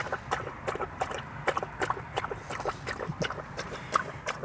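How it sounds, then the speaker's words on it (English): A puppy lapping water from a bowl, with quick wet laps repeating in an uneven rhythm, close and fairly loud. "sorry about the noise, my puppy drinks his water pretty loud,"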